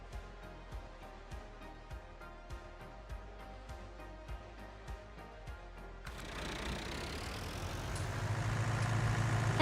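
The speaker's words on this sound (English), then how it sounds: "Let me just take this tractor over to 66." Tractor engine in Farming Simulator 19 at night, a steady low hum with faint regular clicks that swells into a louder, rising engine roar over the last few seconds.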